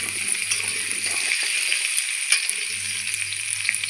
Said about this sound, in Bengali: এখানে দেখুন আলু আর পেঁপে ভালো করে ভেজে নিয়েছি